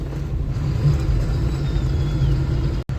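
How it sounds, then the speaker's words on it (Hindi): Road traffic crossing a small, narrow bridge with vehicles coming from both directions: a steady, close engine and tyre rumble that holds throughout, then cuts out briefly near the end. "छोटी सी पुलिया है, इस पे सामने से भी ट्रैफिक आ रहा है, हमारी तरफ से भी जा रहा है।"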